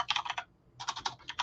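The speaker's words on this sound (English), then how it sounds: "I'll type in chat here." Quick bursts of typing on a computer keyboard, two short runs of close, crisp clicks separated by a brief pause, faint and with no talking.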